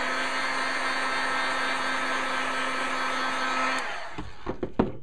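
A crafting heat tool blows a steady, even whir while warming dry glitter embossing powder on a Christmas card, then cuts off, leaving a few soft handling taps.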